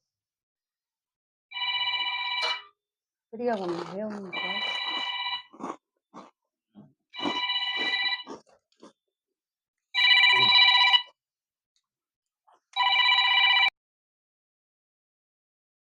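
A telephone rings in five separate bursts with pauses between, while a person speaks briefly in between the rings.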